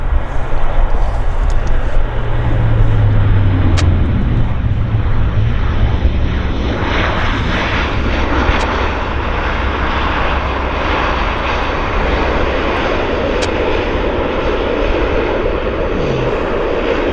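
A WestJet airliner passes at Vancouver Airport with a loud, continuous jet roar that holds steady and close, then eases slightly as it moves on.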